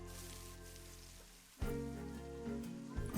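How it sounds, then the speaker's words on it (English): Rain in the Planet Zoo game, a continuous soft hiss of falling drops layered with low ambient game tones, steady with a brief dip midway before resuming. "So we see like it's raining, so it's really hard."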